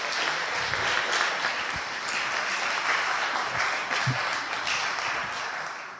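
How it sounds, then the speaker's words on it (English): Guests at a gala dinner award ceremony give a warm, continuous round of applause, many hands clapping at an even, moderate level for several seconds with no talking over it. "I think we can give them a round of applause anyway"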